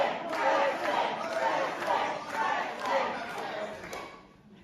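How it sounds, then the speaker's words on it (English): A wrestling crowd roars and chants in waves at a seaside show, rising and falling in rhythmic surges and fading slightly toward the end. "Crowd's loving it."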